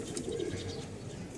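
A pigeon coos briefly in a loft, one low rolling call close by, with the soft burble of other birds around it.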